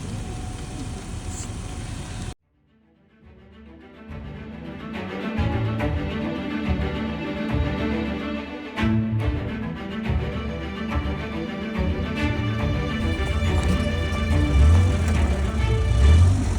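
A small van drives over a snowy, icy landscape in winter Kazakhstan. Its engine hums steadily and loudly from inside the cabin, with bumps and rattles throughout, after a brief cut near the start.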